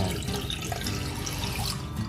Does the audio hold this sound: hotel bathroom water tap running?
yes